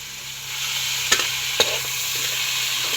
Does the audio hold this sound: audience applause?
no